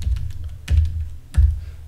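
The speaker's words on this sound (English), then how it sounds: "I get to typing" Typing on a computer keyboard while writing an email: a few separate, close key thumps spaced apart over a low background hum, with no talking.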